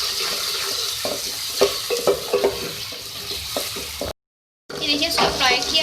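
Ginger garlic paste frying in a pan, a steady loud sizzle with stirring scrapes and clinks, briefly cutting out before the sizzle returns.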